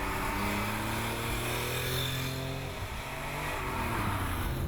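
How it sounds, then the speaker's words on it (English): A Porsche 911 Carrera RS engine roars steadily and loudly on a clear, dry road, its pitch climbing as it accelerates, with no voices. "when you hear the engine"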